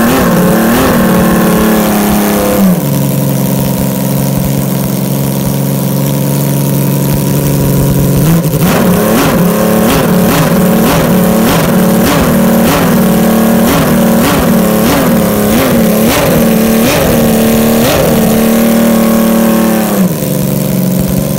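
Millyard Honda RC374 six-cylinder replica engine idling loudly, then blipped through a rapid series of sharp throttle revs that rise and fall repeatedly before it settles back to idle.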